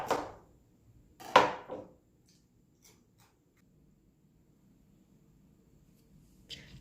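A knife cuts a head of cauliflower into evenly sized pieces. There are two crisp crunching cuts close together near the start, then long quiet, and one faint snap at the end.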